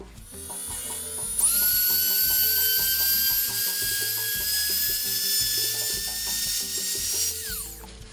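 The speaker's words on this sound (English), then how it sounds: "So I'm just going to sand that down with my Dremel and then we'll do a flood coat." A Dremel rotary tool sands raised spots off a cured resin tray. It spins up with a rising high-pitched whine and then holds a steady, close buzzing grind against the hard surface until it winds down at the end.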